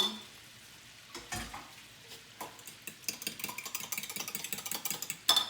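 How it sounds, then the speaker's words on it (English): Cream cooking in a pan for keto mock mac and cheese, with soft stirring and clinking that builds into a steady run of quick scraping strokes and a faint simmer, close by and with no talk. "we have got our cream cooking"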